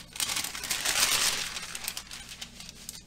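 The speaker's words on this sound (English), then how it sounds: "I know this parchment paper is being really loud too" Crinkly rustling of parchment paper, broadband and fairly close, swelling in the first half then continuing more softly with small crackles.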